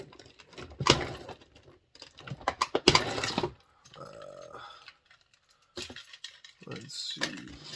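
A small pocket knife cutting tight zip ties off packaged action figures, giving a few scattered sharp clicks and snaps close up, separated by brief rustling and quiet gaps.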